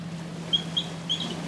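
Three short, sharp squawks from birds in The Last of Us, fairly close and spaced apart over a low steady hum, with no talk.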